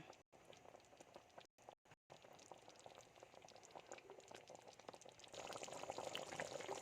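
Chicken liver adobo sauce bubbling in a pot as it thickens, a soft steady simmer with fine popping that grows a little louder and brighter toward the end, with no voices over it.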